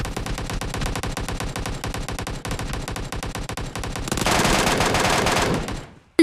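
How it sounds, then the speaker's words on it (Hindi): Rapid, sustained MK14 rifle fire in a video game, loud and close, with dense repeated shots running for several seconds before a brief burst of louder noise, then fading out. "उसे 11 गोलियां मारी MK14 की"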